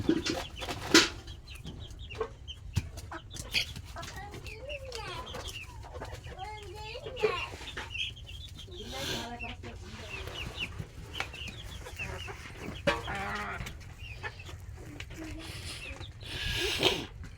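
Chickens cluck repeatedly at close range on a poultry farm, their short calls coming and going throughout while a person talks over them.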